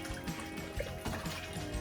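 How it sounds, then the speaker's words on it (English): Raw chicken is rinsed in a mix of lukewarm water and vinegar in a kitchen, with faint trickling and splashing water and soft handling noises close by, heard alone. "I wash the chicken. I just wash it in water. Water and vinegar."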